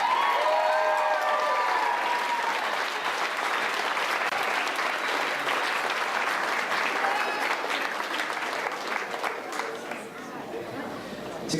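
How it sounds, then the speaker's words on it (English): Audience applause at an 8th grade graduation ceremony, a dense, steady roar of many hands clapping that carries on for the whole stretch, with some cheering and crowd chatter mixed in. "Let's give our 8th graders another round of applause."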